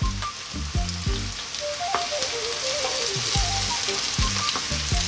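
Garlic sizzles and fries steadily in hot olive oil in a pan, a loud continuous crackle with light stirring, cooking the base for an Ethiopian lamb and potato stew.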